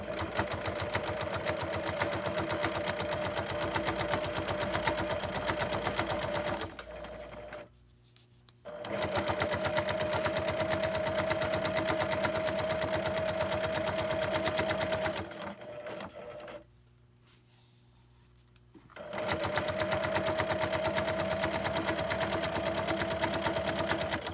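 A sewing machine runs loud and steady while top stitching a quad-folded belt loop. The fast, even mechanical whir stops briefly twice, then resumes, and no one speaks.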